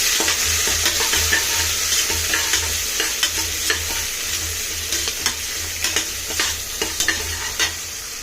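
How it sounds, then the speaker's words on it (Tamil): Tomato sizzles steadily in a hot pan while a utensil scrapes and stirs in irregular strokes, close up, with no voices. "ஒரு தக்காளி பெருசு, நல்லா வதக்கிக்கலாம்."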